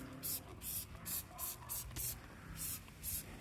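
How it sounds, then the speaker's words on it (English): Ultimate Wash foam sprayed onto a bike in bursts, about seven or eight short, close hissing sprays in a steady rhythm. "I think I'll just spray that on and then leave that for a little bit of time."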